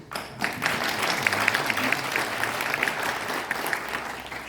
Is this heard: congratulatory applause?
yes